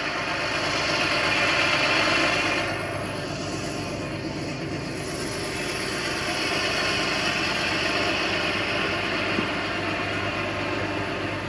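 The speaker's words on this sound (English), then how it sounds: "Got the tractor out here, getting everything pulverized." A tractor engine runs steadily on a muddy dirt track at a pitbike race compound, a loud, continuous close rumble with slight swells in intensity and no talking.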